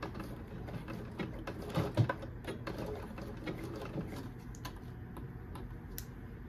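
A home sewing machine stitches fabric with a steady, quiet mechanical whirr and fine rapid clicking, running continuously without talk.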